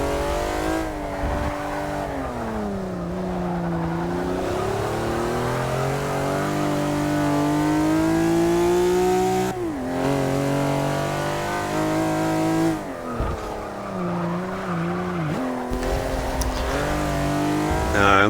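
Mid-engine Ferrari race car lapping a track in Forza Motorsport 6, loud and close, engine revving up through the gears with sharp drops at each shift and lift-off, repeated rising whines across the lap.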